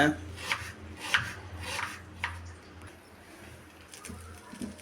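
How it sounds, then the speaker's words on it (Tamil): Onion being chopped with a knife on a board while making a prawn tawa fry, a handful of irregular cutting knocks with light rubbing in between, close and fairly quiet. "ஒரு வெங்காயம் ஒன்று வெட்டிக்கோங்க"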